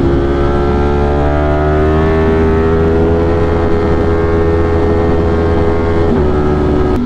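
A 208HP motorcycle engine pulls hard in fifth gear, giving a loud, sustained drone with rising harmonic tones and heavy wind rush, continuous throughout with no talking.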